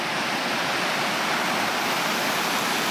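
Spring water gushes out of a hole in a sheer bluff cliff near Tumbler Ridge, a loud, steady, broadband roar like a waterfall, constant throughout with no voices.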